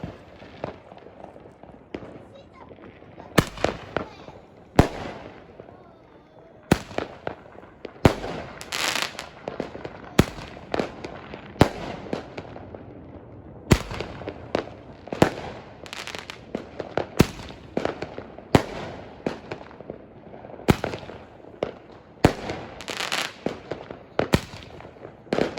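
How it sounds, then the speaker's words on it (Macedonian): New Year fireworks go off at night in a long barrage of sharp cracks and booms, irregularly spaced with some near and loud, others farther off, over a background of crackling and distant pops. "ајде сега и овој огномет"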